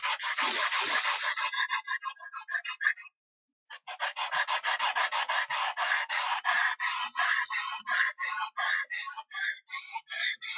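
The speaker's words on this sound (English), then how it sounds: "This is 120 grit sandpaper on a piece of plywood." Sandpaper of 120 grit rubs back and forth on a piece of plywood in steady rhythmic strokes, close and clear, with one short pause before the scraping resumes and slows toward the end.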